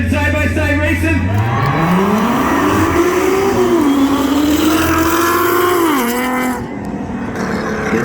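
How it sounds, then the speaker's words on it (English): Nissan 370Z drag cars launching side by side at a spectator drag event, loud engines climbing steadily through the gears and then easing off as they pull away, with crowd noise beneath. "Who's ready to see some good side-by-side racing?"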